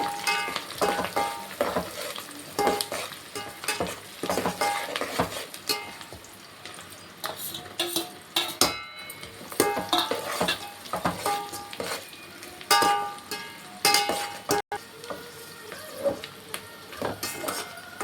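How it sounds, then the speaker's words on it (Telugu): Onions and green chillies frying in a pan for chicken biryani, a loud continuous sizzle broken by frequent busy spatula clatters and scrapes against the pan, close and without speech. "ఎర్రగడ్డలు బంగారు రంగులో వచ్చేంత వరకు వేయించాలి."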